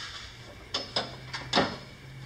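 The friction hinge door and grab handle of a 2019 Wolf Pack 315Pack12 toy hauler close with four quick plastic-and-metal clicks and clunks, close by, over a low steady hum.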